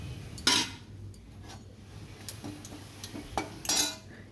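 Cumin seeds stirred in a metal cooking pan in a village kitchen, with a utensil clinking and scraping against the pan in a few sharp, close knocks over a low steady background.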